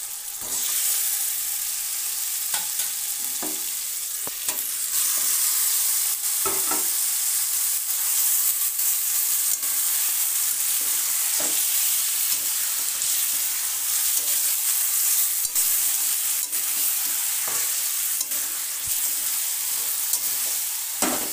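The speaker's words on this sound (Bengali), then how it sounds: "ভালো করে কষাই করে নেবো" Marinated chicken pieces sautéing with onion and tomato in a pan for Murgh Patila: a loud steady sizzle with repeated scraping stirs throughout, no voices.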